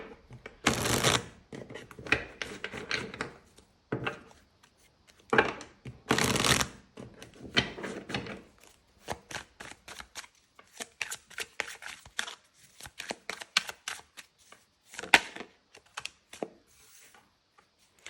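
Tarot cards are shuffled in bursts of riffling and slapping, loud near swishes separated by quieter handling and short pauses, with no talking.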